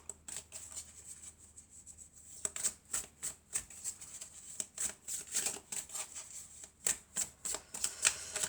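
Oracle cards are handled and shuffled close up, a quiet series of crisp flicking and riffling snaps in uneven bursts, some quick and clustered, others spaced apart, with no talking.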